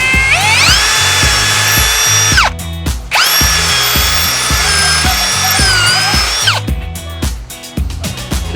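A hole saw on a corded drill grinds loudly through a boat's thru-hull fitting in two long sustained runs with a high whining pitch, a brief pause between them, then the motor winds down into clunks and rattles.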